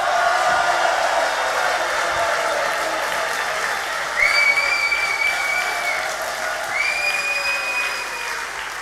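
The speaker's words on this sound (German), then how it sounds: "Also, bitte einen Applaus für unseren Elefanten." A studio audience at a masked-singer TV show applauds a costumed performer, giving a sustained burst of clapping with some cheering and whistles from the crowd, loud and continuous throughout.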